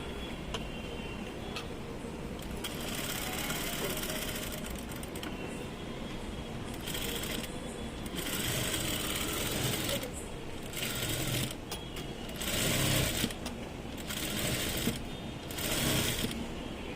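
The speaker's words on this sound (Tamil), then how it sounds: "இந்த ரெண்டு துணியை ஜாயின் பண்ணுற மாதிரி நம்ம தையல் போட்டு எடுத்துக்கலாம்" A sewing machine joins a blouse's lining and main fabric, running in quick rhythmic bursts of mechanical ticking and whirring, stopping briefly between seams, close and fairly loud.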